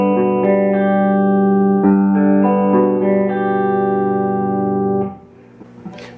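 Single electric guitar notes picked one at a time in a string-skipping exercise, each note ringing on with heavy effects, steady and evenly paced before the sound drops away near the end.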